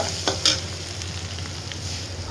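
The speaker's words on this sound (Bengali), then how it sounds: "এই যে রান্না হচ্ছে, পেঁয়াজ দিয়ে উচ্ছে ভাজা।" Bitter gourd frying with onion in a pan, a loud continuous sizzle broken by a few sharp scraping stirs of a spatula, close up and without speech.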